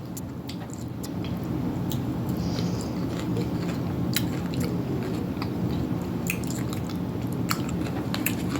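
Someone chews pickled onion right at the mouth, with wet, squishy mastication and small crisp crunches repeating steadily over a constant low rumble.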